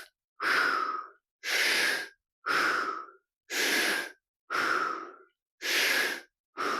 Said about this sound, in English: 6 deep breaths here